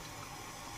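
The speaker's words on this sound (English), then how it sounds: "So let's add slight water" Water is poured into a cooking pot for a one-pot beef curry, heard as a short, steady rushing splash up close.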